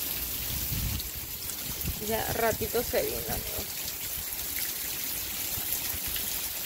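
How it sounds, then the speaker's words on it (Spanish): Heavy rain north of Houston, Texas pours as a steady dense hiss throughout, with someone speaking briefly over it near the middle. "está lloviendo bien fuerte"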